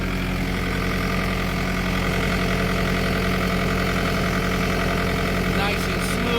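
A Bobcat T750 skid steer idles steadily after a drive belt and tension wheel replacement and new air filter, its engine giving a smooth, even, continuous hum up close, with a brief higher rattle near the end.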